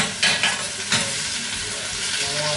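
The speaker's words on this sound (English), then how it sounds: "let that go on saute for a little bit" Food sautés and sizzles in a pot on the stove, a steady close frying hiss with a couple of brief stirring scrapes, no voices.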